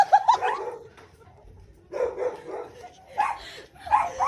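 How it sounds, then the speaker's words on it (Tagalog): A dog barks and yips in short bursts at night, a few sharp calls near the start and more toward the end, mixed with excited voices nearby. "Mami, aso dyan!"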